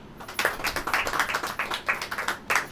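A church congregation clapping hands during a sermon, a rapid run of individual claps in quick irregular rhythm, moderately loud and close, with no other sound over them.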